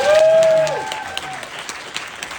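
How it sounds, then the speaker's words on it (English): Applause from a theater audience at a film screening Q&A, with a tonal note fading at the start before scattered claps continue at moderate volume. "Another round of applause."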